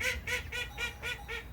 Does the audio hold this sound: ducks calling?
yes